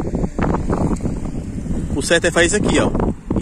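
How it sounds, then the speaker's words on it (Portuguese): Strong wind buffeting the microphone beside a busy avenue in Itapipoca, Ceará, low rumbling gusts under someone talking throughout. "tá ventando muito, pessoal"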